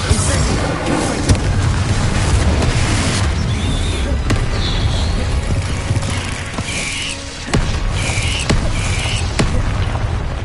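Spell blasts in Hogwarts Legacy boom and crackle one after another over a dense, loud game soundscape, with sharp impacts and bursts of chiming magical effects.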